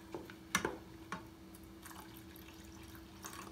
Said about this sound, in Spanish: Vamos a echarle un poquito más de agua.